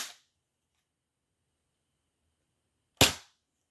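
A gun shot from the video game Donkey Kong 64 sounds twice, two sharp bright cracks about three seconds apart over near silence.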